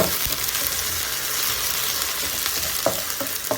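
Steady, bright sizzling of sliced garlic and shallots frying in a hot pan, with a few soft clinks and stirring sounds near the end.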